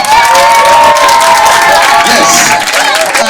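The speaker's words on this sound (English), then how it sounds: "Clap for God." Loud cheering and clapping from a crowd of children and adults at a primary school leavers' party, continuous and close, with shouting voices rising above the applause.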